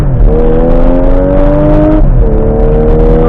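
An Audi SQ5 under full acceleration, its engine note climbing in a loud, steady drone, dropping briefly at one gear change before rising again.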